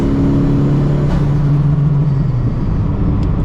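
An engine hum inside a built Nissan S15 followed by a quick hissing whoosh of a turbo blow-off valve as the throttle lifts from full boost.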